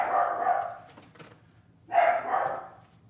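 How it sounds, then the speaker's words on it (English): Toby, a dog, gives two loud, drawn-out barks nearby, separated by a short quiet pause. "And then we'll go see what Toby's barking at."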